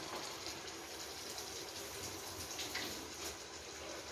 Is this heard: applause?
no